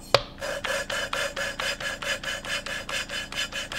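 Steady rhythmic rasping strokes, about three per second, of an engine valve being lapped by hand against its seat, metal grinding back and forth, close and alone.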